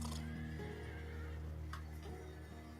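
Horses whinnying, a prominent neigh standing out over a steady low hum and faint hoof clatter, close and clear for a brief moment.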